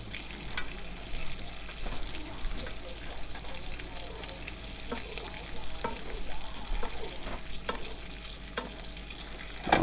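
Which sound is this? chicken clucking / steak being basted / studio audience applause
steak being basted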